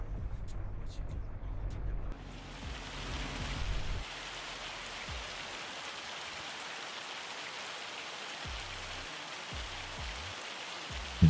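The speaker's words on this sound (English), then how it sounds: "It's raining." Steady rain falling on an Iowa farm, a dense even hiss that holds through the whole stretch, with low engine-like rumbling early on and brief low thumps later.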